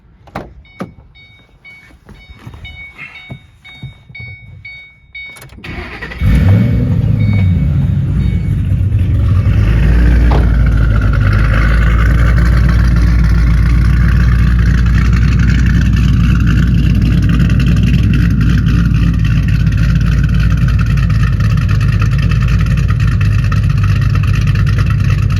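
A 2007 Mustang GT V8 with Howards Rattler cams cranks and fires up after some quiet handling noises, then settles into a loud, close, lumpy idle with rev blips that runs continuously to the end.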